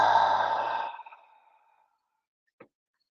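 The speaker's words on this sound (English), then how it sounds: "exhale all of that air out" A person exhales steadily and audibly through a breathing exercise, a long breathy release close by that fades out after about a second, followed by silence and a brief faint click.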